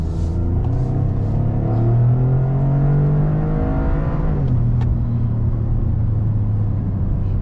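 Toyota GR Corolla with an automatic transmission working through a chicane, its engine droning steadily and close, pitch climbing, then dropping sharply around the middle and settling again, with faint tire and road rumble underneath.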